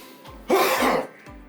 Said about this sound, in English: Take a deep breath in and forcefully huff out a cough by